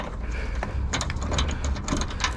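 A ratchet clicking as it undoes bolts on a Nissan 350Z suspension during a control arm swap, a quick series of sharp metallic clicks and short rattling bursts at close range, with no voices.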